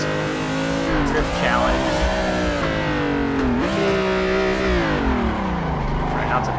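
A BMW E30 drifting in the Assetto Corsa racing game on Xbox One, its engine loud and close with continuous revving that rises and falls through shifts, a tire squeal now and then, and voices underneath.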